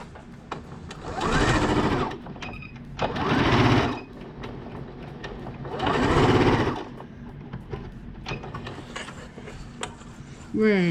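A sewing machine stitches a strap onto the inside of a crossbody purse in three loud bursts of a couple of seconds each, separated by quieter pauses with faint handling noise.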